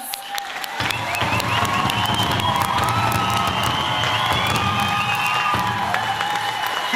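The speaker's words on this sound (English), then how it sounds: "Let's give them one last big round of applause." An audience at a Native American honoring event gives a big round of applause with cheering and whoops, starting sparse and swelling into a loud, sustained wash of clapping and shouts.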